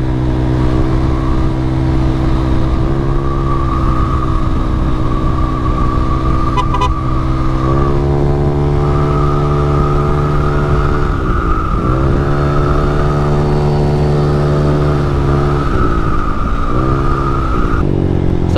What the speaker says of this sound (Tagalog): Solid tumunog ng Evo to talaga. Sobrang basi.